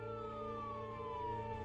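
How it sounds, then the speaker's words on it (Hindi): A police siren wails steadily at moderate distance, its tone sliding slowly downward over a low background hum, with no talking. "अचानक उसको एक पुलिस का सायरन सुनाई पड़ता है।"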